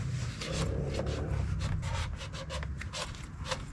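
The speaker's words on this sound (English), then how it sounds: "I usually take a shop towel and get in there and wipe it out a little bit." A shop towel rubs and wipes gunk from inside the throttle body housing of a 2007–2011 Jeep Wrangler JK, giving a steady, close scrubbing and rubbing texture throughout with a few sharper scuffs.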